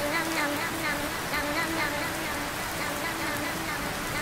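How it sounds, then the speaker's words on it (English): Heavy rain pouring outdoors on a camping trip, a dense, steady hiss of drops pattering on surfaces, loud and close, with a faint voice under it. "It's raining! It's pouring!"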